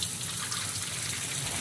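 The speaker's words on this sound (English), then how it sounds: "Open up the blade coolant" Blade coolant flows steadily on a Buehler cut-off saw, a continuous, even rushing of liquid like an open tap, close and moderately loud throughout.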